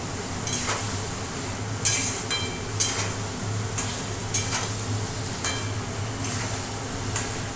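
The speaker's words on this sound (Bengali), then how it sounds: "চিংড়ি মাছটা একটু ওলট পালট করে দিলাম" Prawns sizzle steadily in a hot pan for a Bengali prawn rosa made without onion, broken by several sharp scraping clinks of a spatula as they are turned and stirred, close and fairly loud.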